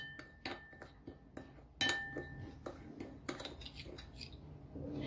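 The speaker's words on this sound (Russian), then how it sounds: "Все хорошо перемешиваем." Irregular clinks and taps of a spoon against a bowl while mixing ground pepper, dried garlic and other spices, a series of light metallic strikes close by with quiet gaps between.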